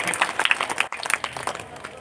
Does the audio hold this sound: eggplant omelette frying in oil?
no